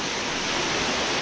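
Water of the underground Sapfous stream in Marousi rushes where it joins the underground Podonyftis stream beside a large pool, giving a steady, loud, unbroken roar that fills the whole stretch.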